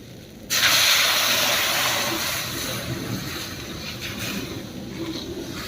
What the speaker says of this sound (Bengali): এবারে ঝোলের জন্য দেব গরম জল